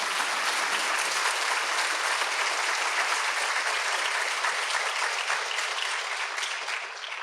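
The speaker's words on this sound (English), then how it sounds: "Let's give them a big round of applause." Sustained audience applause at a university State of the University address, a dense, steady wash of many hands clapping that holds loud and even throughout, fading only slightly at the end.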